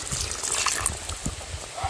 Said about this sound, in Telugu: వాటర్ పోసుకుందామండి